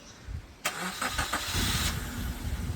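A car's engine cranks and catches during a driving lesson, a short starter whirr followed by a steady, moderately loud idle that continues to the end.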